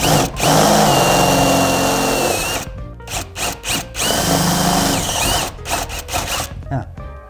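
A power drill whirs in bursts while boring a small hole in a dented car body panel, a long steady run followed by several short on-off pulses, close and loud.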